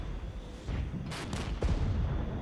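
Mortar artillery fire in the Regiments war strategy game, a few distant, muffled booms and sharp cracks over low rumbling battlefield ambience, separate blasts clustered in the middle and later part.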